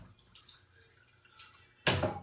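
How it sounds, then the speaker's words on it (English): Water poured into a pan in a home kitchen for cooking vegetables without oil, a sudden close splashing burst at the end after a few quiet drips and kitchen clinks. "First thing I do is put in a little bit of water, no butter, no oil, no nothing."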